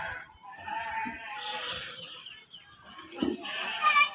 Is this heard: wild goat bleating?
yes